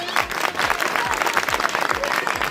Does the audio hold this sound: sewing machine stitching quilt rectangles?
no